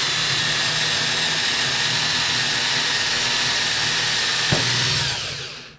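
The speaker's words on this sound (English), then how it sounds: "I'm going to keep the drill in a forward motion and then pull it out of the material." Cordless drill boring a hole through material, a loud, continuous motor whine with grinding bite that holds steady for several seconds, gives one sharp knock near the end, then winds down as the drill stops.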